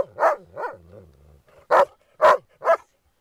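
A Groenendael barks during resource-guarding play, with two sharp barks and a low growly rumble followed by three more spaced, loud, close barks.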